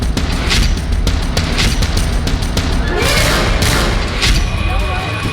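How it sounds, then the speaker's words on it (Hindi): Gunfire amid a noisy crowd during street protests in Pakistan, a dense run of sharp cracks and booms repeating through the whole stretch over steady crowd roar and shouting. "फायरिंग की आवाजें हैं"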